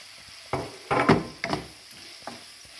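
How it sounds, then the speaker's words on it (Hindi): Prawns go into a cooked curry masala and fry, with a soft sizzle under several close stirring scrapes and thuds of a spoon in the pan, with no talk. "अब इसमें प्रॉन डालेंगे।"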